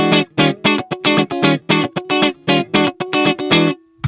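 An electric guitar played through a Dr. Z MAZ18 Jr amp with the reverb turned down gives a rapid, choppy run of punchy staccato notes and chords, loud and dry, ending on one sustained note.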